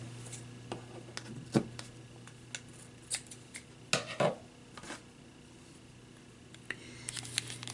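Scissors cutting a length of yarn, heard as a few scattered soft snips and clicks over a quiet, faintly humming room, close and gentle with no voices.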